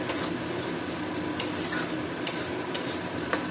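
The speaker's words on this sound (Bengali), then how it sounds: "এইভাবে নাড়তে থাকবো" A utensil stirs fish mash with ginger and garlic in a pan, with soft scraping and occasional light clinks of metal against the pan over a faint sizzle, close and steady, no talk.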